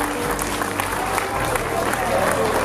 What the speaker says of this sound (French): On va applaudir très fort pour elle